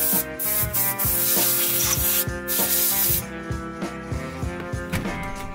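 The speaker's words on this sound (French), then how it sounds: "Je commence par retirer tout le sable, la poussière et les miettes qui pourraient se fixer sous la teinte que je vais passer." Sand, dust and crumbs are cleaned from the seats of a BMW 730i V8, with a continuous harsh rubbing, brushing scrub in steady back-and-forth strokes, loud and close, with no talk.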